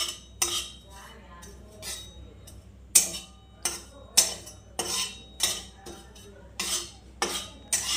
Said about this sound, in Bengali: সো আমি মেথিটা এখন একটু ভেজে নিচ্ছি।